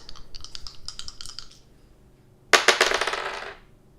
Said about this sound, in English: So I'm gonna throw the dice.